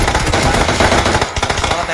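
Rapid automatic gunfire rattles continuously in a PUBG Mobile championship match on the Erangel map, dense and loud bursts running throughout with commentator voices underneath.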